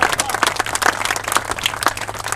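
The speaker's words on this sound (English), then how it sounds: "You could applaud John if you want." A small audience at a highway coalition event applauds John with scattered, uneven clapping, distinct individual claps popping through a thin crowd wash, fairly close.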